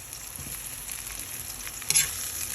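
Corn sautés in a hot pan for sweet and sour shrimp, giving a steady soft sizzle and frying hiss, with a brief louder stir-scrape partway through.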